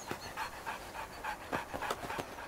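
A dog panting quickly and close by just after being let out of a car, a rapid string of breathy huffs with a few short sharper gasps.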